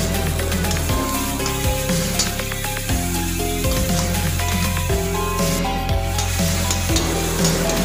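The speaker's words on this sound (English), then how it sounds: "Mix all the ingredients gently for 5 or 6 minutes." A spoon scrapes and stirs jackfruit with cumin, coriander, cardamom and cloves in a sizzling pan, in steady repeated strokes. Close, continuous frying noise with no voices.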